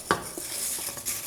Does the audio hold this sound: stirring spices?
yes